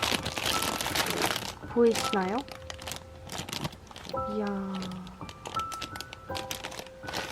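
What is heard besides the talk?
crinkling plastic packaging while unwrapping a plush doll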